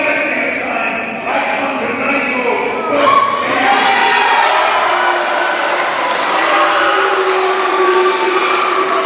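Wrestling crowd at a Shane Douglas versus 2 Tuff Tony match, a steady roar of cheering and clapping building in intensity, with a commentator talking over it.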